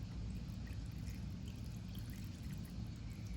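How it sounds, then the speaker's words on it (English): Orange juice poured steadily over raw fish ceviche in a kitchen, a faint continuous trickle with low background hum and no talking. "I'm just gonna pour some orange juice into the"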